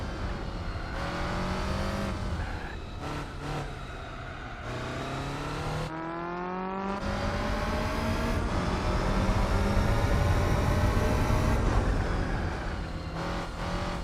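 Modified Fiat Uno engine in the racing game Gran Turismo 4, revving up through the gears with rising whine between shifts and brief lifts off the throttle, loud and close with no talk.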